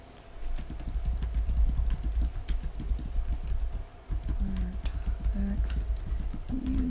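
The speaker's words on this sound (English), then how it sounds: "I'm going to type in here instead." Continuous computer keyboard typing in a studio during a live stream, steady rapid clicking held at moderate level throughout against a faint background hum.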